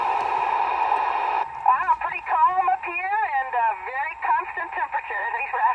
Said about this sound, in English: This is the space station we're hearing.